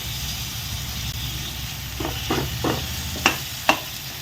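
Tomato pieces frying in a pan of chicken keema upma with ginger paste, turmeric and coconut: a steady close sizzle, then a few scraping stirs and two sharp clinks against the pan, without speech.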